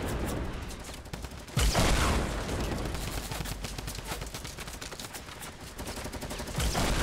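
Rapid, continuous minigun fire from the Fortnite battle royale game roars loud and dense, an unbroken rattling burst that surges at a few points and runs nearly the whole stretch.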